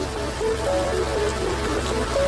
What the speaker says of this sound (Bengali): এরপর একটানা বৃষ্টি হতে লাগলো।